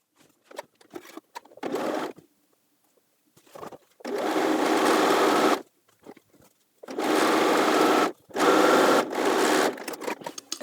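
Sewing machine running in several bursts of steady stitching, with short pauses and handling noises between runs, as it sews a half-inch seam around a work-pants pocket facing and pocket bag.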